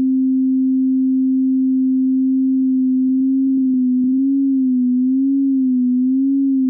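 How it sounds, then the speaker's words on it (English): Ableton Operator synth playing a low sine tone under 1 Hz frequency modulation, a loud steady pure hum whose pitch begins to wobble slowly up and down about once a second in the latter half, with faint clicks in the middle. "So that is frequency modulation."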